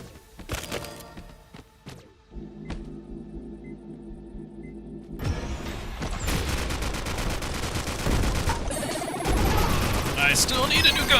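Bursts of gunfire from the free PvP roguelike battle royale game Skillshot City: a few scattered shots, then dense, continuous rapid fire that builds loud and full over several seconds.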